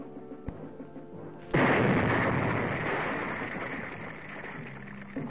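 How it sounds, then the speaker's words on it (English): A landmine detonates in a Marine Corps demolition setting: one sudden heavy blast after a quiet lead-in, followed by a long rolling rumble that slowly fades. "his mine explodes"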